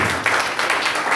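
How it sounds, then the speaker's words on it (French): A church congregation applauds, a dense continuous wash of clapping filling the short stretch at steady loudness. "Acclame très fort."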